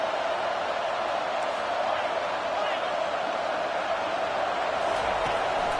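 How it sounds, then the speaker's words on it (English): Steady roar of a stadium crowd in the NCAA 25 college football video game, cheering for the defense trying to stop a drive in the red zone, a constant dense wash of noise under play-by-play commentary. "The crowd getting behind this defense as they try to get a stop in the red zone."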